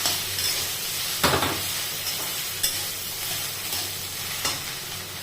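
Okra (bhindi) sautéed in oil in a pan, a continuous close sizzle and hiss with intermittent scrapes and knocks of a spatula as it is stirred, no voices.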